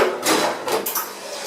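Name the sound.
replacing the waste container in a Talento automatic coffee machine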